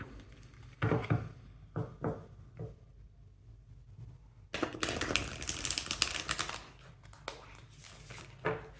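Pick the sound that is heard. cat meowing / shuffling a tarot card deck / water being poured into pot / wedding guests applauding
shuffling a tarot card deck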